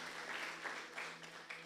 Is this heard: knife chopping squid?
no